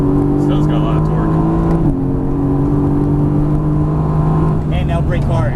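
A Mercedes-AMG GT S on a race track pulls hard under throttle, its loud engine droning and climbing steadily close by with a brief shift dip, while a driving instructor talks over it.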